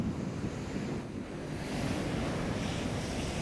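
Sea waves wash onto the beach at Alanya in a continuous, rushing surf, loud and close, with gusts of wind buffeting the microphone.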